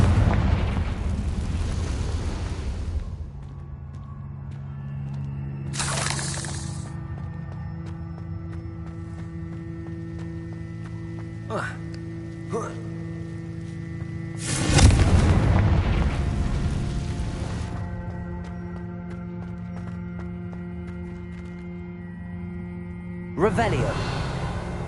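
Confringo spell explosions in Hogwarts Legacy, several loud fiery bursts spread apart with a steady game ambience between them and a few smaller pops.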